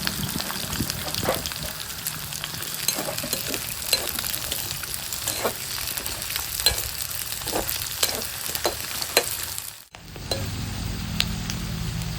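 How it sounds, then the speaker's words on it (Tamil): Pirandai (veldt grape stems) crackles and sizzles steadily in hot oil with scattered pops, then the sound briefly drops before a lower bubbling fry continues. "எண்ணெய் கொதிச்சுட்டு பிரண்டியை போட்டு பொரிக்கப்படும்"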